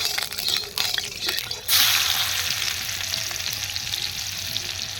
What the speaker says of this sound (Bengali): আমরা প্রথমে চিকেনটাকে ফ্রাই করে নেব